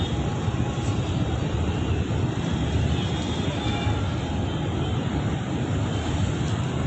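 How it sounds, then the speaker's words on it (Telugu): The Krishna river at Vijayawada runs in heavy flood, a steady broad rushing roar of water that fills the air continuously, with wind buffeting the microphone. "నీళ్ళు చాలా చాలా పోతున్నాయి"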